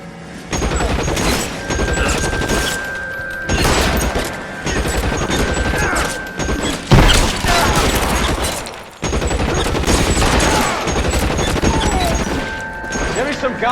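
An L.A. Noire shootout in a video game brings heavy gunfire in dense bursts and volleys, loud and near, with short pauses between salvos and shouted voices mixed in.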